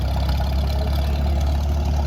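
A McCormick Deering O4 orchard tractor engine runs steadily nearby, a loud, low chugging idle with a continuous throbbing rumble and no talking over it.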